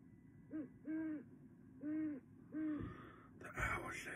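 An owl gives four evenly spaced, mid-pitched hoots, each about half a second long, close and clear against quiet night ambience, followed by a brief burst of noise at the end.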